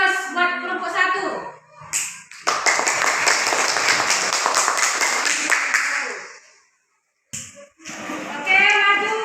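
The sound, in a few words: applause for group 1 in a classroom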